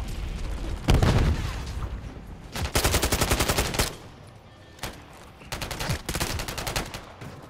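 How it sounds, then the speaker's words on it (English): Bursts of rapid automatic fire from the player's gun in the Call of Duty video game come in several distinct volleys, each a quick run of sharp shots, separated by brief pauses. "When I shoot my bullets."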